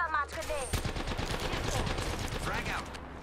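Gunfire in the Apex Legends battle royale game, a short burst of sharp shots up close, with voices talking underneath.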